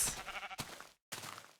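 Two short bleats from a pink sheep in a video game, the first wavering and the second clipped, close and clear with a brief gap between them.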